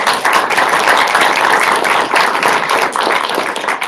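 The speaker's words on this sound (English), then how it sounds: "Let's give them another round of applause" Audience applause for three panelists closes a live seminar on invasive species, a steady, dense wash of clapping that stays loud and even for the full stretch with no voices over it.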